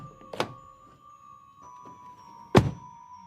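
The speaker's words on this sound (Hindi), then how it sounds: "जैसे ही दरवाजा बंद हुआ" A door shuts twice with dull solid thunks, one early and a louder, closer one near the end, over a faint steady hum in a quiet room.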